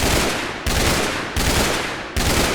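Burst-fire rifle firing Gibbs rounds in the Minecraft Scorched Guns 2 mod: four loud, dense shots roughly three-quarters of a second apart, each decaying into the next, with no speech.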